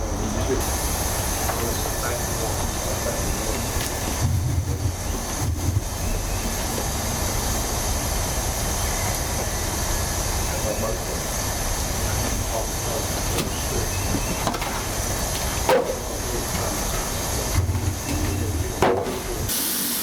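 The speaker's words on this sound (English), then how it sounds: "I've opened up these little valves on the cylinders, and we're just basically draining all the water" An 1890s DeLoach steam-powered sawmill engine hisses steadily as water drains from its opened cylinder valves, a continuous rushing hiss with occasional clanks and knocks, close and fairly loud.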